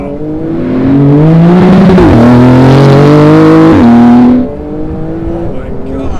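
Close, loud roar of a 2019 Porsche 911 GT2 RS Weissach Package, 700 hp twin turbo, accelerating hard through two upshifts with rising engine pitch, then easing off as the engine note drops.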